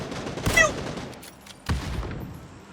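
Gunfire in the PUBG video game: two sharp bursts of shots, the first around the half-second mark and a second strong crack later, each trailing off into echoing reverb, moderately loud with little talk.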